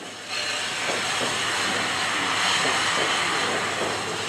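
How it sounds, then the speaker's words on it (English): An English Electric Type 4 diesel locomotive hauling a coal train on the main line rumbles past close by with a steady hissing, grinding roar, faint rhythmic clatter of wagons on the rails, no voices. "On the main line, an English Electric Type 4 heads south with a coal train."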